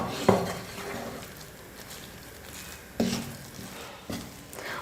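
Chana dal dough being stirred in a pan on the stove, heard as soft scraping and stirring with a few sharp clinks of the utensil against the pan over a quiet sizzle.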